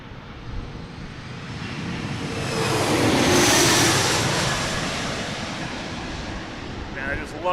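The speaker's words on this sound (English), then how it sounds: "And we have a plane coming in." A passenger plane arriving from Birmingham on approach to land at DCA airport, a broad roaring rumble that swells to a peak midway and then slowly fades, loud and steady throughout.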